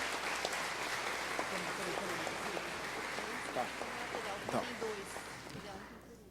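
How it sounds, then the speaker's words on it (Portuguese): An audience at a Portugal Day ceremony in São Paulo claps for an honoree, conductor João Carlos Martins, with dense, sustained applause that tapers off at the end while a voice speaks over it. "Uma honra, mais uma vez, uma salva de palmas."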